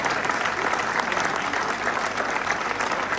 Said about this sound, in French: Encore un très grand applaudissement à monsieur le conférencier